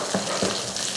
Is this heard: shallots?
yes